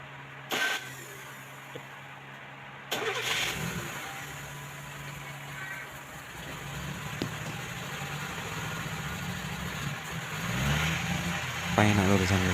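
A motorcycle with a carbureted scooter-type engine is started and settles into a steady idle with a low hum, a faint rising rev near the end, and some talk over it.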